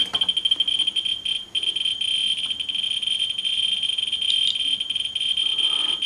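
A scintillator radiation counter held to a thorium sample gives off a dense, fast stream of irregular clicks over a steady high-pitched tone. It sounds close and fairly quiet, with no talking.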